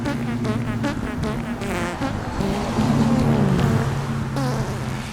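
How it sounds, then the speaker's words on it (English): A Coleman KT196 go-kart fitted with a Predator 301 engine runs close by, its buzzing, fluttering engine note rising and falling steadily with rattling overtones and no talk over it. "Oh, I got a noisy car."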